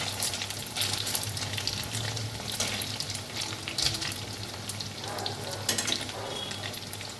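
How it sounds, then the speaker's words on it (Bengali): Chhana vadas, cottage-cheese dumplings, frying in oil in a kadai, a dense steady sizzle with crackling bursts and occasional stirring scrapes, close and continuous. "একটা পিঠ ভালো করে ভাজা হয়ে গেছে, এবার এই পিঠটা ভেজে তুলে নেব।"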